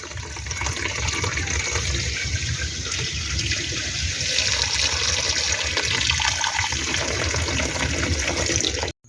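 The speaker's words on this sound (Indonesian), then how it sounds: "Ini kayak buang dulu airnya, ya, sedikit demi sedikit" Water poured off steadily while new silica sand is rinsed before going into a water filter tank, a continuous close gushing, splashing flow lasting several seconds that cuts off abruptly at the end.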